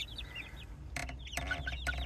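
Chickens on a small home flock with a rooster cluck in short, close bursts and squawks, with a few higher chirps over steady low background hum.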